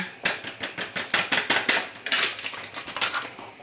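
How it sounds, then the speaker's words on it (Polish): Pudding powder is stirred into a liquid in a bowl while milk heats for an Easter cake, giving a quick run of close, sharp clinking strokes in an uneven rhythm. "Teraz gotuję mleko i budyń rozprowadzam"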